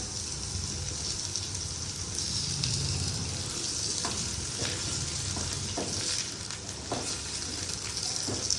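Onions sizzle in a pan of oil until browning for a tadka in a village kitchen: a steady, close hiss with a few soft stirring scrapes and clinks, and no voices.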